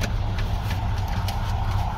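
Low, steady idle rumble from the original engine and factory exhaust of a 1991 Ford Ranger F200 XLT, heard close up and continuous, with faint ticking on top.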